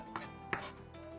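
Knife chopping cherries on a board, two crisp close cuts about a third of a second apart, with a faint steady hum behind.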